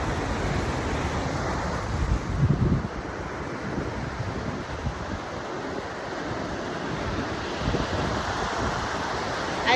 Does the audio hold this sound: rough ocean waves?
yes